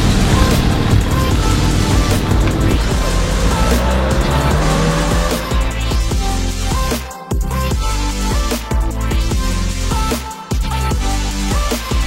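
A Lotus Emira sports car runs loud and close, its engine note rising and falling through revs with brief cuts between shifts, over a steady roar without any talking.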